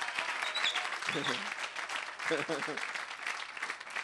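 A crowd claps in a steady, dense patter of hands that fills the whole stretch, with a couple of short cheering voices rising over it partway through.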